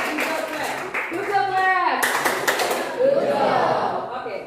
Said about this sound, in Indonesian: Tepuk tangan buat Oroni dulu semua